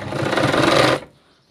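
A sewing machine stitches a katori blouse sleeve in one loud, rapid run of about a second, then stops abruptly into near silence.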